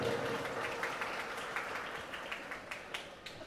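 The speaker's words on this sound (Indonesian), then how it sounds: "Ya, tepuk tangan dulu Bapak Ibu." Audience of parents at a school farewell ceremony applauding, a quiet steady patter of many hands with a few sharper claps, heard from a distance and fading slightly.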